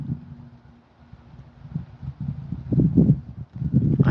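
Horse hooves plod slowly on soft ground as the horse walks in circles, growing louder toward the end, with wind buffeting the microphone.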